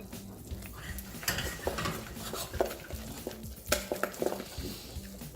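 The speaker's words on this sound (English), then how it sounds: "I'm gonna add my flour. A full cup, and you're gonna stir it really," Flour being stirred vigorously into hot melted butter in a pot for eclair choux dough, a spoon scraping and knocking against the pan in an irregular close-up rhythm, alone without talk.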